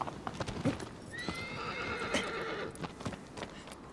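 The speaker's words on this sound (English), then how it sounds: "I was hoping the horse would run itself into there." Horse hooves clip-clopping in Shadow of the Colossus, a galloping rhythm with a neigh in the middle, heard alone without speech.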